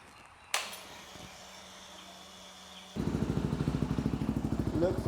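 A Yamaha WR250R motorcycle engine cranks over briefly, catches and settles into a steady, rapid-pulsing idle, close and moderately loud with no talking.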